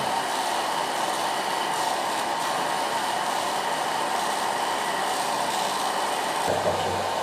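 A hair dryer blows in a steady, unbroken whoosh close by, constant in level throughout, with a brief low thump near the end.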